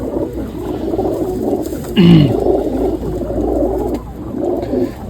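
Pigeons kept by a pigeon club in Tarn Taran coo close by in low, throaty, repeating phrases, with one louder, brighter burst partway through.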